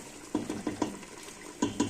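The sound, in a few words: stirring and frying chicken and vegetables for couscous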